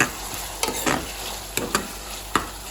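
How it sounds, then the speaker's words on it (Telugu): A spoon stirs chicken curry with turmeric and ginger-garlic paste in a cooker, giving a soft steady sizzle broken by several sharp scraping knocks against the pot. "ఇప్పుడు పసుపు వేసుకుందాం అలాగే అల్లం వెల్లుల్లి పేస్ట్ వేసుకుందాం సరే కలుపుకుందాం"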